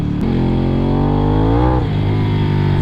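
Ducati Streetfighter V2 with a full Akrapovic exhaust accelerating on a wet, salty road, a loud close engine note rising steadily in pitch through one gear before dropping sharply at a shift, with no talking.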